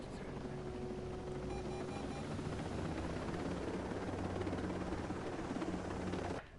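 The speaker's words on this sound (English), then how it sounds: "So I'm going to blow the thing and then take off in the helicopter" A helicopter lifting off in the video game Ghost Recon Breakpoint, a loud, continuous rotor and engine drone with faint tonal whines, steady until it cuts off abruptly near the end.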